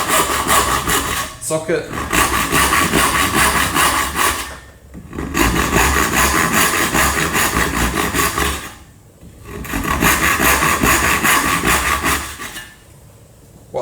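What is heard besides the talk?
tenon saw cutting wood for a dovetail joint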